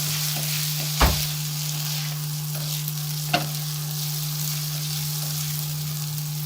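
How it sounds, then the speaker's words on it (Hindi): Browned onion is added to a pan and sizzles at a steady hiss, with a couple of sharp clinks of a utensil against the pan, and no voices. "एक मीडियम साइज का प्याज मैंने ब्राउन कर लिया था, अब इसमें शामिल करने लगी हूँ।"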